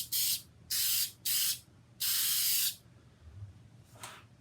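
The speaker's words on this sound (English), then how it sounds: "I'm just going to spray a little bit on there." Inexpensive Rockler shellac is sprayed onto a steel-string guitar top in four short hissing bursts, the last one longer, then a faint brief puff near the end.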